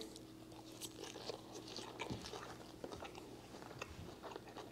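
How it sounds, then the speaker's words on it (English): Crisp crunching of croutons in a Caesar salad being chewed close up, with irregular bites and crackles over a low steady background hum. "The croutons feel crunchy."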